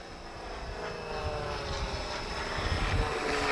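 Aircraft making opposition passes at the Portugal Air Summit airshow, heard as a distant, fairly faint engine drone that swells slightly as the planes approach, over open-air background noise.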